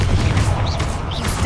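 Confringo blasting spell exploding in the video game Hogwarts Legacy, a dense low booming rumble with crackling bursts that fills the short moment loudly and continuously.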